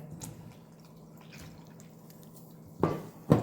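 Small amounts of water are worked into pitha dough by hand. Faint soft drips and wet handling come first, then two louder squelching squishes close together near the end.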